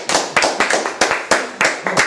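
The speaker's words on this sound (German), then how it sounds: "Hallo Publikum, klatscht mal." A small studio audience claps in short, uneven bursts of several hands, each burst quickly fading, recorded close with no talking over it.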